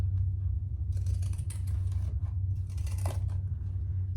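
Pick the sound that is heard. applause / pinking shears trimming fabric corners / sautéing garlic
pinking shears trimming fabric corners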